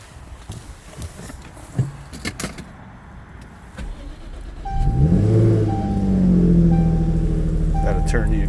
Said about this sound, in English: 2018 Jaguar F-Type 400. Gonna do a cold start video.